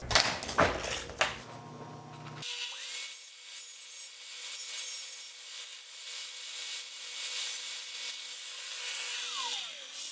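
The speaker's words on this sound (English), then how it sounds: "I'm gonna cut this one piece off here at 6 inches long." A few quick rasping saw strokes through a wooden stick at the start, then a faint, hissy background for the rest.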